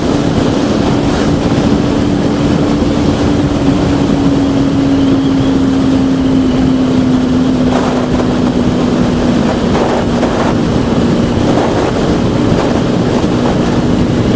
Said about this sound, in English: Ooh, there's quite a bit of wind.